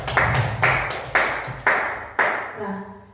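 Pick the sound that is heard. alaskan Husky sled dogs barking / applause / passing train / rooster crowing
applause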